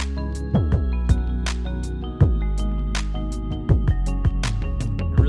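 A drum breakdown with crisp hi-hat hits and deep floor tom strikes over sustained tones, playing at a steady, sparse rhythm.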